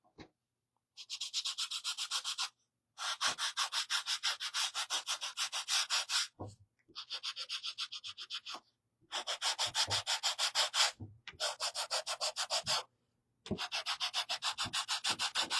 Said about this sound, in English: I want to sand this down a little bit around the edges